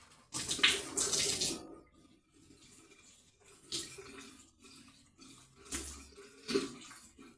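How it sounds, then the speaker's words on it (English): Water from a newly refitted kitchen sink tap running and splashing in bursts, close by, with gushes that start and stop several times and quieter gaps between them. "So now it's time to turn the water on"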